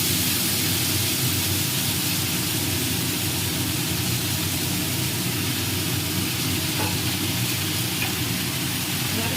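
Chickpea greens sizzle after going into a pan of frying garlic, with a steady broad hiss of oil that carries on evenly throughout and has no voices over it.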